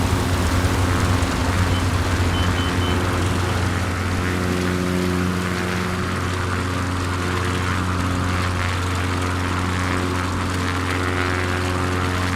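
A propeller aircraft taking off in a flight simulator game over the Vercors Massif in the French Prealps, with a steady, loud engine drone whose tone and harmonics rise and strengthen as power builds, no talk.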